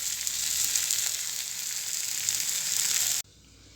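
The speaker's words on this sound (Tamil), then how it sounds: "இதையும் ஒரு 5 மினிட்ஸ் வந்து லிட்டை வச்சு கவர் பண்ணி ஃப்ரை பண்ண விட்டுக்கலாம்." Vanjaram fish sizzling steadily in oil in a covered pan, an even bright crackle that cuts off abruptly near the end, leaving quiet.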